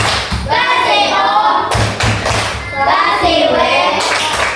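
A classroom of children doing a rhythmic 'wow' clap: several loud bursts of hand clapping with thumping beats, separated by short pauses, while young voices chant along.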